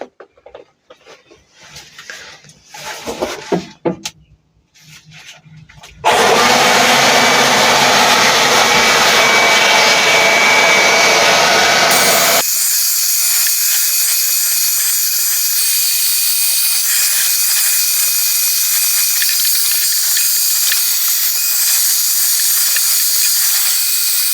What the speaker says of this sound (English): We're just going to give it a good blow now and give it a good blowout so that we can dry as much of the pot as possible.